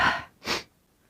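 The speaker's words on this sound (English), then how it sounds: "Sneeze." A single close sneeze: a sharp inhaled breath followed by a short, breathy burst, alone in a quiet room.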